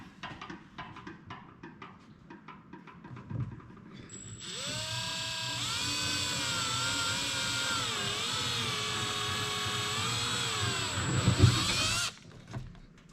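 A power tool bores a hole in the top of an IMS oversized fuel tank for a 2022 Beta 250/300 RR Race Edition two-stroke motorcycle, a loud steady whine that climbs in pitch and holds for several seconds before stopping abruptly.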